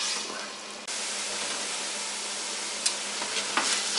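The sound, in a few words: ground meat sizzling in a frying pan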